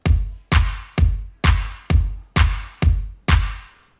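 Eight booming electronic kick drum hits in a steady beat, from a remake of a song, each with a long, decaying low tail that rings into the next.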